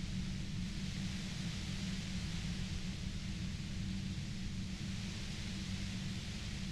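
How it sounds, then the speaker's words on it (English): Continuous dense hiss of white noise, steady and moderately loud with a low rumbling base, filling the scene in the Disco Elysium video game with no voices. "voice trails off into the white noise in your head"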